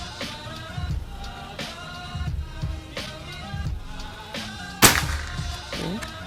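One sharp crack from a PCP air rifle, a locally made bullpup with a bare black barrel, stands out partway through, sudden and close over a background of steady music.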